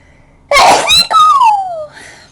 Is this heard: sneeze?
yes